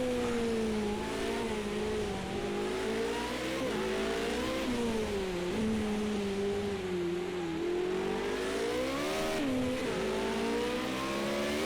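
A Formula Renault 3.5 open-wheel race car in Project CARS 2 revs hard, its engine note climbing and dropping through gear changes with brief wheel spin on corner exit, loud and close with no talk.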